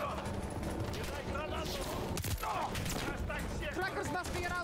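Gunfire rattles almost without pause in a Call of Duty: Modern Warfare 3 fight aboard a ship, with bursts and single shots mixing with explosions and clatter while voices talk over the din.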